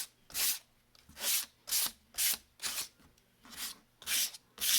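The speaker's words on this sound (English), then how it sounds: "I'm going to just go over it with the sandpaper to rough it up just a little bit" Sandpaper is rubbed back and forth over a wooden sign in about nine steady, evenly spaced scratchy strokes, close and clear with no talking.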